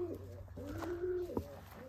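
A pigeon coos several times on a small farm, soft rolling low calls in a slow, uneven series, fairly close and heard alone against quiet background hum.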